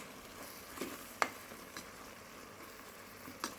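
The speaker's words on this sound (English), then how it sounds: "So I do a bit of frying" Minced soya fries in oil with onions, garlic and soy sauce, giving a quiet, steady sizzle broken by a few sharp pops and the occasional stir.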